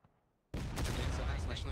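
Union Army musket volley in the American Civil War game War of Rights, a sudden loud burst of massed gunfire that begins after a brief near-silence and sustains as dense, rolling crackle.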